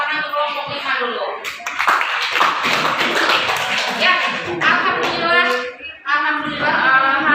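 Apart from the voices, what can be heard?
audience applause for group 5 after presentation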